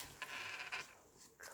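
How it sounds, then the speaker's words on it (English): A dog pants softly indoors during a home craft session, quick breathy huffs in short uneven bursts, faint and fairly close, with no talking over it. "that's our dog."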